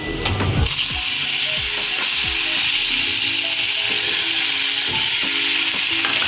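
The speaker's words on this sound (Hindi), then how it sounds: "अब इसमें हम जो है वो मिर्चे डाल देंगे और साथ ही इमली का पल्प भी डाल देंगे।" Green chilies and tamarind pulp hitting hot oil with cumin, a loud, dense, steady sizzle close by, with a splashy burst at the start and faint utensil scrapes beneath.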